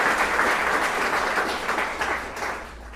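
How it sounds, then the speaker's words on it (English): Audience applause at a lecture on Robert Sobukwe and the apartheid legal system: steady, full clapping from a sizeable crowd that slowly fades over about three seconds. "A round of applause for that."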